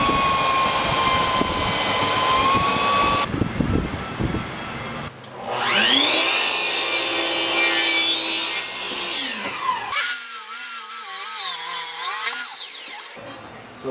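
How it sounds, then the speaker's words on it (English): A reciprocating saw cuts through wood in several bursts, its harsh rasping whine starting and stopping between pauses, close and loud with no talking. "let's just see if we can pull this off with a reciprocal"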